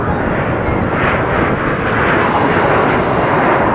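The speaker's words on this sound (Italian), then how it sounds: "rilascio la pressione sui comandi e riduco la potenza del motore" Loud, continuous jet roar from a Frecce Tricolori aerobatic aircraft at the Jesolo European Airshow, a broad rushing noise with a thin whine emerging partway through as the engine power comes down.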